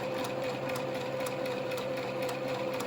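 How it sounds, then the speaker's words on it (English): Sewing machine running steadily as it stitches back and forth across a fabric face mask, a constant close-up mechanical whir with no pauses and no talking. "Do a quick back and forward stitch so it's a little more secure."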